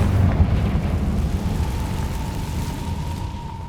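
A Confringo fire spell explodes in Hogwarts Legacy, landing as a loud, deep burst at the start, then giving way to a sustained rumbling roar with a faint steady tone on top.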